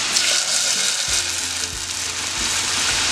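Blended salsa poured into hot oil in a frying pan, sizzling loudly and steadily from close by, with a few bubbling pops and no talk.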